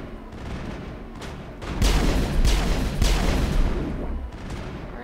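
Gunfire from the video game Mass Effect, a burst of loud, broadband shots with a dense, crackling tail, rising sharply partway through and continuing in heavy overlapping volleys.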